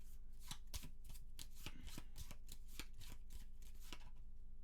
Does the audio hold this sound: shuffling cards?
yes